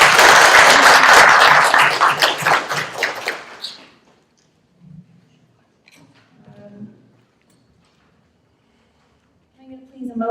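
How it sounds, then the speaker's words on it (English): Board meeting audience breaking into applause for about four seconds, dense clapping that cuts off abruptly, followed by quiet room noise, scattered shuffles and faint voices. "Now we can applaud."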